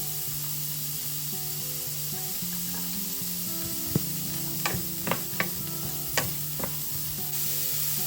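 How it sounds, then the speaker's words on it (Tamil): Oil sizzles steadily as onions, fennel seeds and cumin fry in a pan for mutton gravy, with stirring and a few sharp utensil clicks midway. "இதுக்கு நான் தாளிக்க போகிறேன் சட்டி அடுப்பில் வச்சுட்டு கொஞ்சம் வெங்காயம்"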